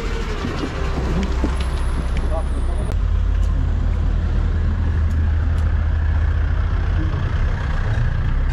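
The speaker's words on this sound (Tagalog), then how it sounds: "Traffic dong." Steady, rumbling road traffic drones on a street in Korea, a low continuous wash of passing vehicles with heavier engines, and a voice speaks over it.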